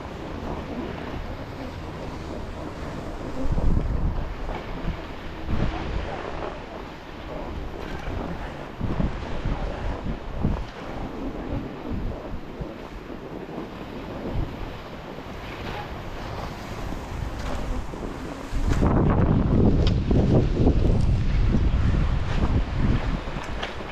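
Strong wind roars during a Vail windstorm, buffeting the microphone in a constant heavy rush with surging gusts, growing harsher near the end.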